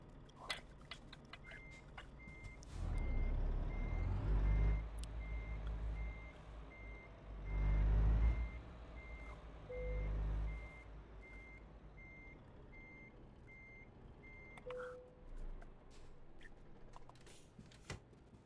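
A truck reversing into a parking spot in a video game sounds a steady, evenly spaced beeping alarm over a low engine rumble, with occasional swells of engine noise and faint mechanical clunks.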